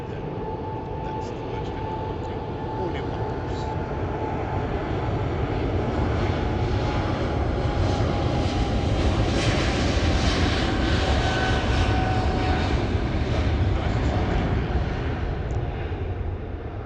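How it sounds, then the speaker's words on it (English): A wide-body passenger jet takes off at Heathrow with a loud, continuous engine roar that swells toward the middle of the clip and then holds steady. "It's a wide-bodied plane, so I presume that's 343 seated plane inside"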